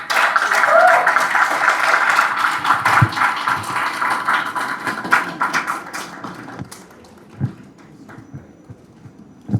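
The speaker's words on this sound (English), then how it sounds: "Some more applause." Crowd applause welcoming Idris Elba on a courtesy call to the Ga Mantse, dense steady clapping from many hands that thins out into scattered claps in the last few seconds.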